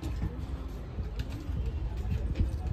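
A pigeon coos softly nearby in short, low bursts over faint background rustle and noise.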